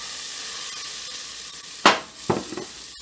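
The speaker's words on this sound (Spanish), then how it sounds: "Vamos a sofreírlo por espacio de unos 2 minutitos." Diced carrot and celery sauté in a pan for a white bean, sausage and kale soup, giving a steady close sizzle punctuated by a couple of sharp scraping stirs near the end.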